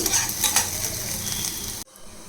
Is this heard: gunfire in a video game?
no